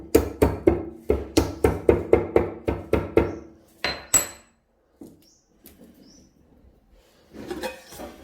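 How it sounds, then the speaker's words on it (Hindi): Cardamom pods pounded in a mortar for an immunity-boosting kadha: a rapid series of about a dozen sharp, close knocks in a steady rhythm, then a couple of heavier strikes, followed by quieter scraping and handling sounds. "अभी हम इलायची डालेंगे, तो इसको कूट के डालेंगे।"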